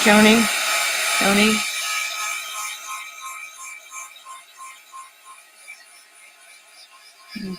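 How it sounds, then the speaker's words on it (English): Electric heat tool blowing warm air to dry a craft vignette project: a steady, whirring fan hiss running continuously for several seconds at close range, with a few short vocal sounds at the start and end. "We're going to dry that really quick with some light heat."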